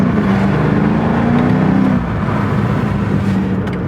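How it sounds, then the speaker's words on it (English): A steady, rumbling 2022 BMW M5 CS engine drone with a low exhaust tone in efficient mode, windows down, holds throughout, dipping slightly midway, heard from inside with no voices. "In efficient mode, with the windows down, the exhaust doesn't sound overbearing."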